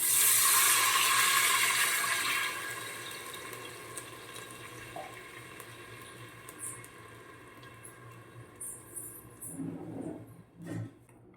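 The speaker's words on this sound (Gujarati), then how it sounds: "બે ગ્લાસ જેટલું પાણી રેડી દઈશું" Two glasses of water pour into a pot of Gujarati garlic masala khichdi with green peas, a loud gushing splash at first that fades into quieter trickles and a few stirring knocks.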